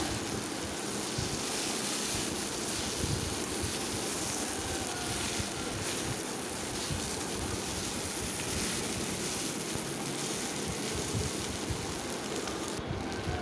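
Slit green chillies sizzle and fry in a pan for khichuri, a dense continuous crackling hiss held steadily throughout, close and without talk.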